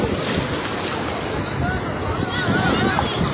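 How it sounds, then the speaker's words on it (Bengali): Big sea waves surge and wash onto Kuakata beach in Bangladesh, a loud, continuous roar of surf mixed with wind buffeting the microphone, with people talking nearby. "সুজন ঢেউটা দেখ, অনেক বড়।"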